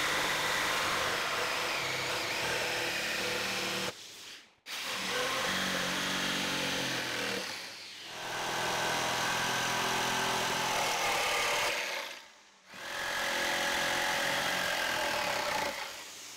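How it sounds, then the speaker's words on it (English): A steel wire brush on an angle grinder scours old, rotten wood, in three long loud grinding passes separated by brief pauses where the tool spins down and falls quiet. "I swapped to a steel brush on the angle grinder"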